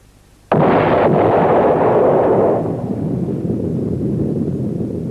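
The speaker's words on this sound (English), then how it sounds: "On a test site 90 miles from Los Alamos, they exploded the first atom bomb." The first atomic bomb test explosion at a desert test site in July 1945: a sudden loud blast followed by a long, heavy rumbling roar that slowly fades but keeps booming in the distance.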